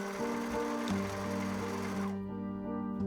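A sewing machine top-stitches a belt section for a 1918-style pleated plaid skirt, running in a steady fast mechanical whir and stopping partway through, followed by quieter clicks. It is fairly soft and heard alone.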